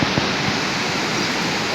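Water rushes through the opened gates of the Tungabhadra Dam at Hosapete, Karnataka. It is a continuous, even roar of heavy flow that stays steady throughout with no voices.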